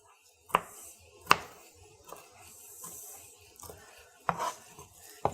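A knife chopping a jalapeno on a cutting board for peach chili salsa, with several sharp, close thuds spaced irregularly, two early, a cluster near the end, and quieter rustling between, no talking.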